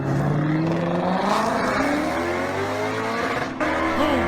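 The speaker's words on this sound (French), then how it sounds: "ça ressemblait plus à un moteur V8" A V8 engine revving hard, its roaring, rising and falling pitch sweeping up through several throttle blips in a loud, continuous rush with no talk.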